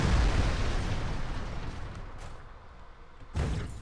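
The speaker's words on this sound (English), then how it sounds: "better explosion effects," A video game explosion effect from the indie game ADACA: a loud, low boom that decays over a few seconds, followed by a second sharp burst near the end.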